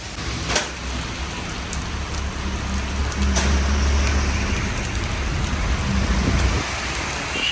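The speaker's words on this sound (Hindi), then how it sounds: "बाहर होती हुई झमाझम बारिश" Heavy rain pours steadily outside, a dense continuous hiss of drops on surfaces with faint thuds, close and loud with no talk.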